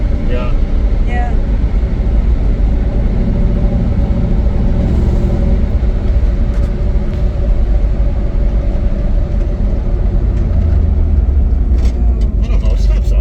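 A 1960 Pontiac Bonneville cruises along on the road, its engine and tires making a steady, loud low rumble that lasts throughout, with people talking in the cabin over it.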